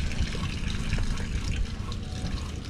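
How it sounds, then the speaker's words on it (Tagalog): Water running out of a pipe at a house under construction, a steady broadband rush and splash that stays close and constant, with no voices over it. "Ganda ng tuluan ng tubig ko."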